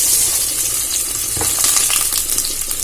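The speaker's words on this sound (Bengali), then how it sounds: "তেলটা গরম হয়ে গেছে, আমি কুচানো পেঁয়াজ দিয়ে দেব।" Chopped onion hits hot oil in a pan for Bengali rui fish kalia, giving a loud, steady, broadband sizzle with faint crackles throughout.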